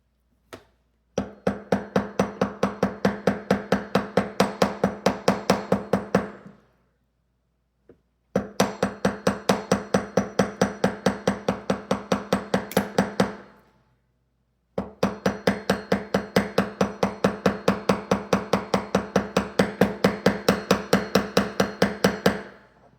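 A hammer strikes wire for a bar necklace in three long bursts of rapid, evenly spaced metallic taps, each lasting several seconds with short pauses between, close and alone with no talk.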